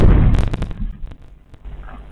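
A bridge carrying Russian supply lines explodes in a heavy blast, the loud boom followed by rumbling debris and a few sharp cracks that fade over about two seconds.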